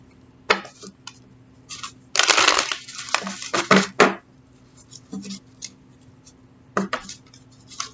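Tarot cards being shuffled by hand, a series of irregular papery riffles and slaps in short bursts, close and fairly loud, with quiet gaps between the handfuls.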